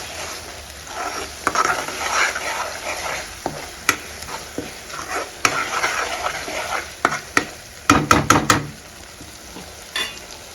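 A spoon scrapes and knocks repeatedly against a pan while a thick raw onion paste sizzles underneath, with a quick flurry of clattering strokes toward the end.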